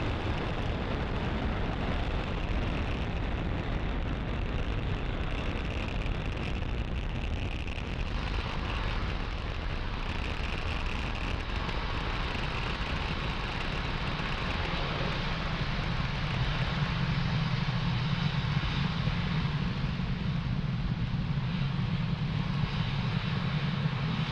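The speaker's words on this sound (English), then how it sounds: "You are watching Falcon 9 accelerate Spaceflight's Sherpa-LTC 2 and our Starlink satellites out into space." Falcon 9 rocket carrying Sherpa-LTC 2 and Starlink satellites roars during ascent as a steady, loud, broadband rumble with no speech, deepening into a heavier low drone in its second half.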